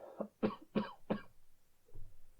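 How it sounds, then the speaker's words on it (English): Four quick, raspy coughs in a row, close and fairly quiet, followed by a faint throaty sound. "try not to cough my head off while doing it"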